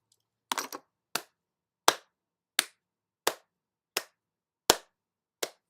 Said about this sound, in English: sometimes you just gotta clap for yourself